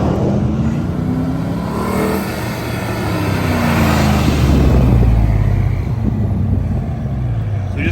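Twin-turbo 1000 hp RAM 1500 pickup on a test drive, engine roaring loudly and continuously from close by with rising and falling revs as it accelerates, wind and road rush throughout.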